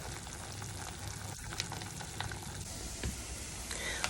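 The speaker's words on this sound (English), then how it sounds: "we're going to keep the temperature up high with the lid off to let it evaporate a little bit better" Carrots bubbling and reducing in broth over high heat in an uncovered pan, a continuous frying hiss with faint stirring knocks and no talk.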